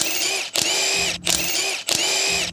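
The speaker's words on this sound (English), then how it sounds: "use your 21mm socket on your electric impact to remove the lug nuts the rest of the way" Electric impact wrench with a 21mm socket removing lug nuts on a 2014 Ford F150, three loud sustained whirring bursts of hammering with short gaps between them.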